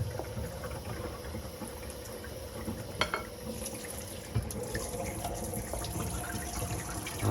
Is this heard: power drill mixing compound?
no